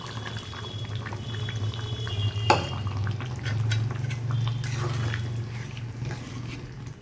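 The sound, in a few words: pouring milk into simmering vegetable curry (dudh shukto)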